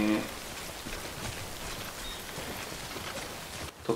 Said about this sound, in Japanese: 時雨だね。